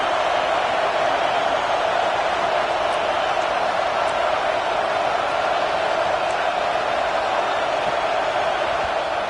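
A dense, steady roar of a large college football stadium crowd cheering on the defense during a red zone stand, constant and loud throughout with no breaks.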